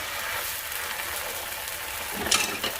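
Food sizzles steadily in a frying pan over lowered heat, a constant crackling hiss with a couple of brief clatters of the pan near the end.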